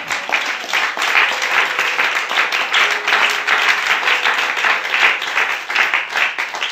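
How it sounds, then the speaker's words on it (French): Worshippers in a church clap and cheer for Jesus in a sustained, even wave of applause that lasts throughout, with a faint voice occasionally rising above it. "Quelqu'un peut acclamer Jésus."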